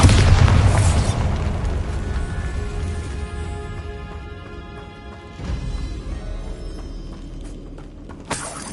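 A Bombarda spell explosion in a Harry Potter video game: a loud opening boom that rumbles and slowly decays over several seconds, with a second burst near the end.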